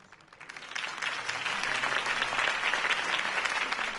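Crowd applause after a campaign speech in a Batman video game, clapping that rises quickly from a few hands to a dense, sustained ovation lasting several seconds, heard alone.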